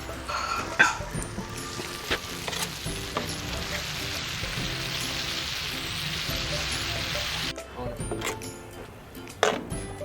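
About a kilo of finely ground chicken keema fries on a tawa with a steady, broad sizzle, joined by stirring scrapes, while someone talks over it and a dog barks a few times.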